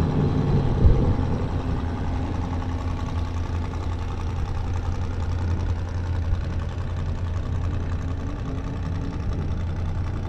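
An off-road race truck engine runs steadily on the qualifying course at the Rigid Rampage in Ridgecrest, a continuous mid-pitched rumble at a moderate distance with no voices over it.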